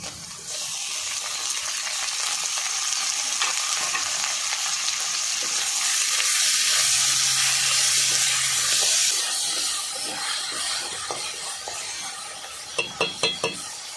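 Onion, garlic and ginger pastes with chopped tomato fry steadily in hot oil, a loud continuous sizzle with occasional stirring scrapes and a few clinks at the very end.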